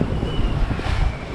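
Wind roaring through a sailboat's rigging at sea at night in roughly 30-knot winds, a steady loud rushing with low buffeting gusts and no voices.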